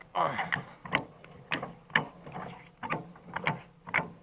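A repaired Kubota Niplo rotary tiller gearbox is turned by hand, giving a series of about eight regular ratcheting clicks and mechanical clunks, close and fairly quiet with no talk.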